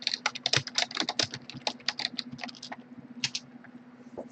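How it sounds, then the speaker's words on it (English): Rapid, close clicking of keys on a computer keyboard fills the scene in an uneven stream of taps over a steady low hum, then slows to a few scattered strokes near the end. "I can type it in the chat."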